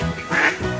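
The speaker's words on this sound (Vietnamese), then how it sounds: "Duck." A single short, nasal duck quack, close and clear, lasting under a second.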